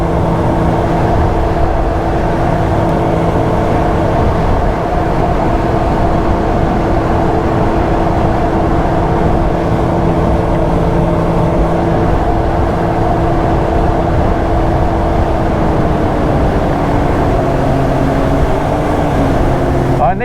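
A motorboat engine drones steadily at close range for the whole stretch near Greymouth, New Zealand, a loud, even hum with a faint pitch dip near the end.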